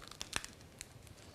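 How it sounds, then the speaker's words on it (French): Crisp canelé pastry being cut in half, giving a few sharp, dry crunching crackles close up, quiet and brief, with no talk. "Vous entendez comment ça croustille?"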